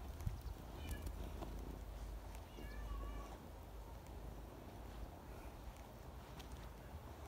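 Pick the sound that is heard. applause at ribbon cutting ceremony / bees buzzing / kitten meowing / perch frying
kitten meowing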